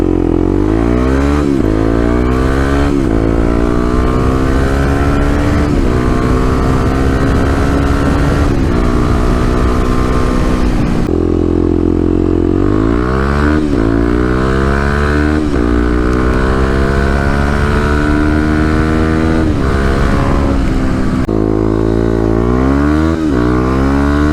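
A 2018 Kawasaki KLX351 EFI motorcycle engine runs loud and close while warming up, its drone rising and falling in pitch through repeated revs and gear changes with no voices.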